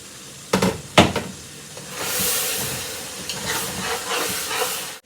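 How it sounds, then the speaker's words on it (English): Potato greens fry loudly in a pot with a steady hiss and sizzle, preceded by a couple of sharp clanks as a utensil stirs and scrapes against the pot. "Our potato grains is frying. I'm going to stir it so that it does not burn at the bottom"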